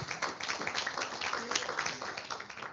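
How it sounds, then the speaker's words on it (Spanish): Conference audience applauding together, a dense, steady wash of many hands clapping at close range for nearly three seconds with no voices over it. "un aplauso, por favor"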